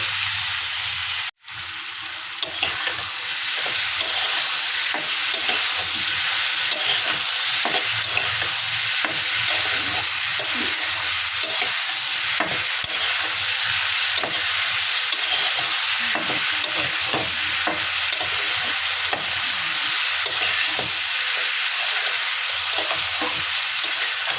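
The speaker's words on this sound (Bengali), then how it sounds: "এটা দিয়ে ভালো করে আমি এই সবজিটা ভেজে নেব মশলার সঙ্গে আর তেলের সঙ্গে করে ভালো করে আমি ভেজে নেব" Kohlrabi fries in oil with chili powder and spices in a pan, a long, steady sizzle laced with rhythmic scraping and tapping of a spatula, briefly cut off near the start.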